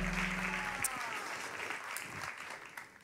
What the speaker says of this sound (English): can we give Jesus another round of applause for all that he's done?